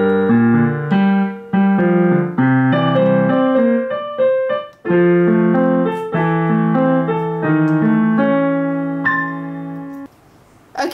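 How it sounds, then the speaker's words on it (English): The second part of the first verse of a song from La La Land played on piano, a slow melody over sustained chords with a brief pause midway, ending in a short burst of noise. "the right hand for the second part of the first verse before Mia comes in sounds like, I'm gonna play it really slowly"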